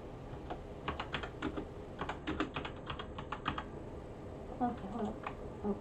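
Computer mouse clicks while dropping bombs in War Thunder, flying a B-25: a quick irregular run of light, close clicks and taps, with soft game sound beneath.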